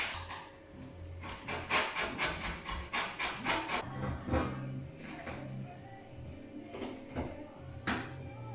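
An old chisel scrapes grout from bathroom tile joints in repeated short rasping strokes, close and fairly quiet, with a faint steady hum underneath.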